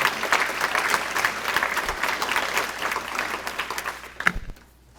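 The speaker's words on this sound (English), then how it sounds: "Please give them a round of applause" Audience applause at a volunteer luncheon and awards event, a steady dense crowd clapping that holds for several seconds, then fades out near the end.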